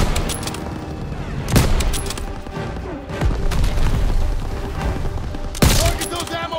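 Scoped rifle fire in Call of Duty WW2 on a battlefield, with loud sharp shots and heavy booms at intervals over continuous combat noise, while voices talk through it.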